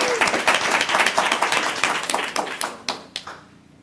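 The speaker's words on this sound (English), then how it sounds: "Again, please give him a round of applause." An audience at a school board meeting applauds, with many hands clapping together in a busy burst that fades to a few scattered, distinct claps and then silence.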